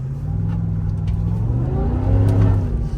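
A Fox Factory Chevy Silverado pickup driving on a washed-out farm road, its engine holding a steady low drone that swells as it revs harder toward the end, close and loud throughout.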